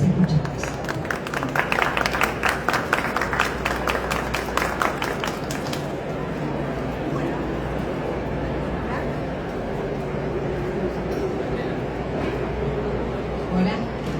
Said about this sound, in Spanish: Les invito a brindarles un aplauso